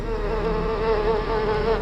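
A fly called Monsieur Mouche drones in a steady, close buzz, a dense insect hum that stays loud and unbroken throughout with no talking.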